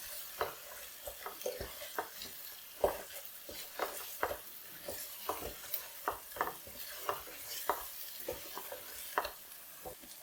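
Chicken with salt, chili and turmeric stirred in a pan over high flame: a steady low sizzle under repeated sharp scraping strokes of a spoon against the metal, close and rhythmic.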